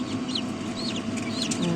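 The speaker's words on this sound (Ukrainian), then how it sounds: "І в мене вже почалися вилуплюватися курчатка" High, thin peeping of several newly hatched chicks in a Vinnytsia-made 400-egg incubator, chirping repeatedly over a steady low mechanical hum.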